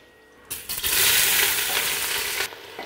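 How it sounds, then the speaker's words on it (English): Red onion frying in a pan over low-medium heat for jollof rice with turkey: a steady, close sizzle breaks in after a brief quiet start, holds evenly, then eases slightly at the end, with no talking. "We want our onion to be golden yellow. So we are cooking with low medium heat to make it golden yellow."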